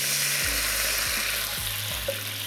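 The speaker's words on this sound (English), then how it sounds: "deglaze my pan with just a little bit of the beef stock I'm going to be using for this recipe" A hot pan deglazed with beef stock, giving a soft, steady hiss with faint stirring under background music.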